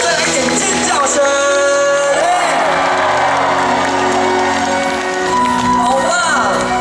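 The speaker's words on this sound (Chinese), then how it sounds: "来一点尖叫声！" A concert audience at the National Dr. Sun Yat-sen Memorial Hall in Taipei screams, shouts and cheers loudly and steadily throughout, a dense wall of crowd noise with no break.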